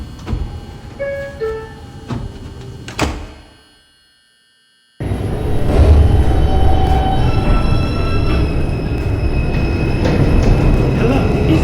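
A New York subway 2 train bound for Atlantic Avenue gives a few tones and clanks, drops to a brief hush, then settles into a loud, steady rumble of wheels and motors.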